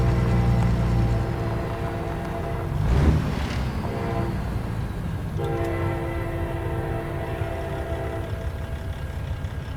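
A train passing in the video game American Truck Simulator, with a loud sustained horn blaring over rumbling rail noise, a brief whooshing burst midway, then the horn sounding again as the cars roll on steadily.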